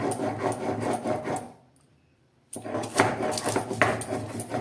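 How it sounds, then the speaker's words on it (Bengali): Mustard and poppy seeds are ground into paste with a rhythmic, gritty rubbing and scraping. The grinding halts for about a second midway, then resumes just as dense and close. "আমি সর্ষে আর পোস্তটাকে বেটে নিচ্ছি"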